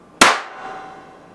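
A charged capacitor bank discharges into a satellite receiver card with a single sharp, loud bang that fades quickly into a brief metallic ringing tail.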